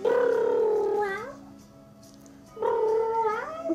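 A person imitates a cat meowing during a nursery rhyme, giving two long drawn-out vocal meows with a rising, wavering pitch and a brief pause between them, close and loud.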